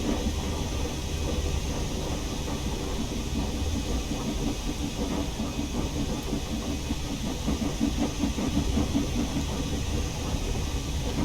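A steam locomotive labours uphill in the Train Sim World game, giving a steady, fairly quiet mix of hissing steam and rumbling engine noise with dense rapid chuffing texture throughout.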